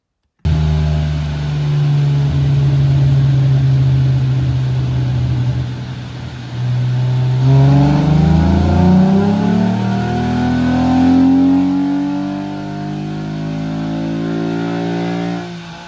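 A tuned Hyundai Tiburon engine revs hard on a dyno, strong steady drone climbing in pitch through a long pull, then a second surge rising to a high sustained rev, loud and close with no talk.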